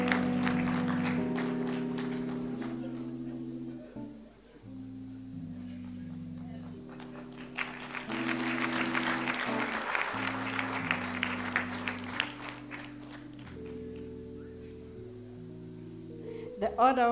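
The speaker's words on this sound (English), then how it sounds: "Let's give him a great round of applause." Audience applause at a National Orders awards ceremony, a broad wash of clapping that swells in the middle and stays moderately loud beneath steady sustained musical tones playing throughout.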